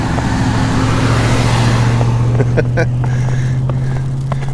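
Car moving slowly along a wet, rainy road, giving a steady, close rumble of engine and tires with a low drone, while a few faint clicks and knocks sound over it.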